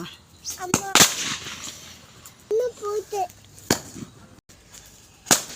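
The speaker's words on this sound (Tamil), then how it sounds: "ஐயோ வெடிக்குது" Sharp firecracker bangs pop intermittently, several sharp cracks spread out, with voices and someone speaking between them.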